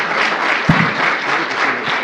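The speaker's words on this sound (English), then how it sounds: "Can we give them a mid-debate kind of applause?" Audience applause at a 2017 multi-faith university panel at the University of Saskatchewan, a steady burst of clapping from a crowd filling the whole two seconds at even loudness.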